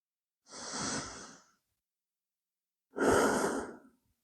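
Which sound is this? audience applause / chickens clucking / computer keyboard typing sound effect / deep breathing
deep breathing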